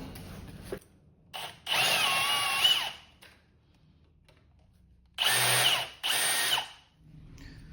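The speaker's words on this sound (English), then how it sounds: "this is just a series of rivets that have got to be drilled out" A power drill whines in three bursts, one long and two shorter, drilling out rivets on a baby carriage frame, with quiet gaps between and faint clatter in the pauses.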